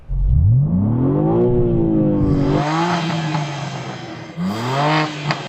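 A BMW M3 CS with a twin-turbo inline-six and xDrive all-wheel drive revs hard, its engine note climbing steadily, then dropping and rising again in a second surge, loud and close with no talk over it.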